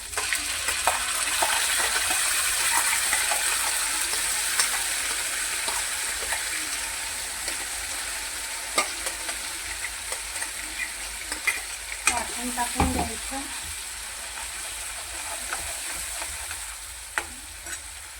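Ground spice paste dropped into hot oil for a jackfruit curry after ginger has cooked, frying with a loud steady sizzle and occasional stirring scrapes and clatters, nearby and without talk.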